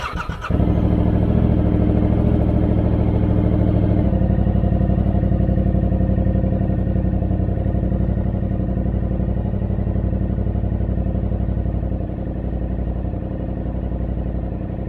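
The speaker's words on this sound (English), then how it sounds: "So I run the engine for about 30 seconds to a minute, something like that, just to get the oil filter filled up" A Yamaha R7 motorcycle engine starts and settles into a steady, close idle after its first-service oil change, a continuous low throbbing rumble with no voices.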